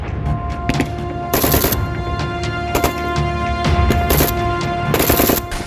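Bursts of automatic gunfire and explosive blasts from the Russia-Ukraine war, loud repeated volleys at irregular intervals over a constant rumbling background, with no voices.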